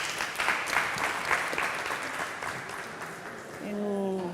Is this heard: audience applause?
yes